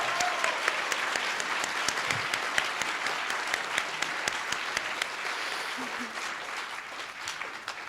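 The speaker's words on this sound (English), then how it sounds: "Can we get a round of applause?" Audience at the YDSA 2022 socialist conference gives a sustained round of applause, dense steady clapping filling the room for the whole stretch with faint crowd murmur beneath.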